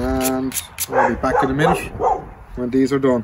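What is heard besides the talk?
dogs barking in the background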